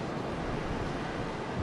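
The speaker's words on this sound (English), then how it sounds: "It's very windy around here, isn't it?" Steady whooshing wind sweeps around Hyrule Castle in Zelda: Twilight Princess, a soft broadband rush with low rumbling gusts, even and unbroken, with no voices over it.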